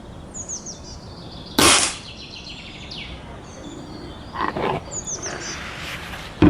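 An FX Panthera Compact .25 calibre air rifle fires with a single sharp, loud crack, followed by fainter knocks and clicks, while birds chirp faintly in the background.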